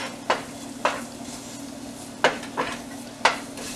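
Garlic in a skillet gets stirred in about five separate scraping strokes, each a brief bright rasp of utensil on pan over a low, steady background hiss.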